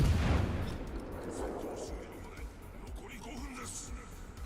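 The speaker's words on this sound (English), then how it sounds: "Well, this looks like a much better salvo." Warship artillery salvo in World of Warships: a heavy boom at the start decays into rumbling and scattered distant impacts, fairly faint, with game ambience behind.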